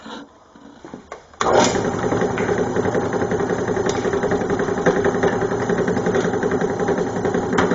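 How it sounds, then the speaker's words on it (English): After a quiet second or so, a drill press motor spins up abruptly and keeps running with a steady, buzzing whine, close and fairly loud, as it drills a hole for a brake bleeder. "So I have the drill bit in the press"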